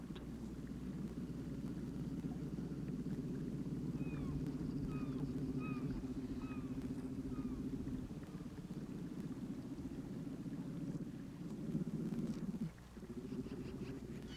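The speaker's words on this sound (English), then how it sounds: "While nursing, cubs often make this purring sound." Grizzly bear cubs in Alaska purr while nursing, giving a continuous low rumbling drone that holds steady at moderate, close range and fades near the end.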